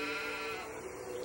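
Sheep bleating in a TV commercial, a single sustained nasal bleat that fills the short clip with no voices over it.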